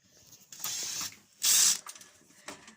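A cordless screwdriver whirs in two short bursts as it backs out bolts, the second louder and higher, followed by a faint ratcheting click and a brief third spin.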